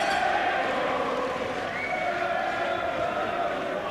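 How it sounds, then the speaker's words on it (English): Boxing arena crowd cheering and roaring for Herol Graham, a steady dense wash of voices heard under a commentator's talk. "And this crowd now beginning to root hard for Graham."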